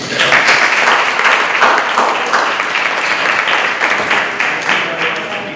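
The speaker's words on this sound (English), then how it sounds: "round of applause for us" A crowd at a school committee meeting gives a steady round of applause, dense clapping holding at an even level for several seconds with no voices on top.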